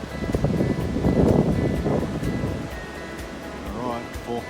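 Ocean surf washing onto a beach along a multi-day coastal hiking trail, a broad steady wash of waves at moderate distance, with some wind noise and rustle over it.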